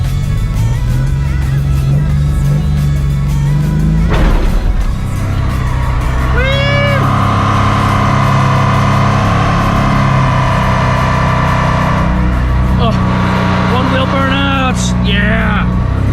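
A truck engine revs hard and pulls away in first gear after stalling, a loud steady drone with rising pitch sweeps from about six seconds on, over constant low rumble, with brief voices near the end.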